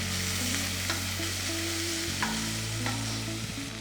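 Sliced ginger and garlic sauté with onions in a pan, a soft continuous sizzle with a few faint stirring taps, close and quiet over a steady low hum, with no voices.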